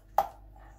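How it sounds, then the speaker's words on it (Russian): A fork presses into canned tuna in a bowl, giving one sharp close clack followed by a soft, quiet squish and near silence. "Тунец разминаем вилочкой."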